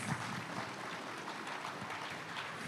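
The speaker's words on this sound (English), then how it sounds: "I think we should do that in a round of applause" Crowd applause at the closing of an e-learning conference, a continuous soft wash of many hands clapping at moderate distance, steady from start to finish without speech.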